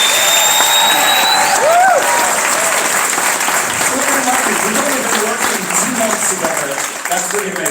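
An audience at a cancer gala applauds steadily, a loud, dense wash of clapping that fades slightly toward the end, with a voice speaking and a few whoops over it.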